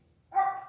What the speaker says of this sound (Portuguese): Agora o cachorro está começando a latir, viu, gente?